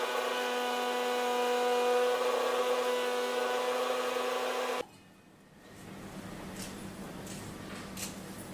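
A motorised grinder or mixer jar whirs steadily, loud and constant, as roasted whole spices are ground to powder, then cuts off abruptly, leaving quieter room noise with faint clinks.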